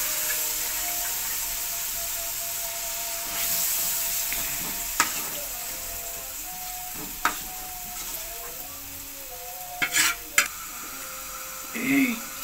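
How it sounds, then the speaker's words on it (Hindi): Mash dal sizzles and is stirred in ghee with spices in a pan, a steady hiss with occasional spoon scrapes and clinks, while someone talks softly over it. "ये दाल हमने डाली थी, इसको अब जो है वो अच्छी तरह भूनना है हमने मसाले के अंदर"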